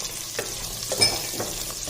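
Small onions and vegetables such as turnip frying in a pan for veg biryani, giving a soft continuous sizzle with a few light stirring knocks and scrapes.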